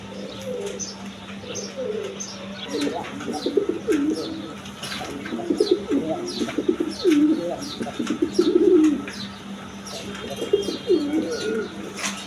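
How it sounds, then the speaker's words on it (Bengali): Big-sized pigeons at a seller's loft with chicks coo repeatedly and close by, soft throaty rolls coming in uneven bursts with a few faint chirps over a steady low hum, and no one speaks. "দেখেন একদম বিগ সাইজের কবুতর।"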